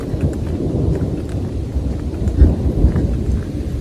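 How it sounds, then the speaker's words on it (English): Low rumbling thunder rolls continuously along the Appalachian Trail near McAfee Knob, mixed with steady rain noise, fairly loud and sustained with no talking. "you hear that? There's the thunder."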